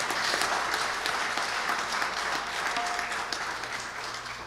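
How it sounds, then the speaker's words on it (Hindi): Audience applause at a live devotional Bhaktmal katha gathering in Hamilton, a steady dense clapping that holds for several seconds and fades slightly toward the end. "तो एक बार इनके लिए ताली बजाओ सबके लिए।"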